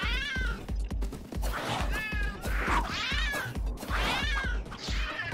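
A cartoonish cat in the Tokyo Jungle video game meows loudly and repeatedly, several drawn-out rising and falling cries in quick succession, close and clear with no talk over them.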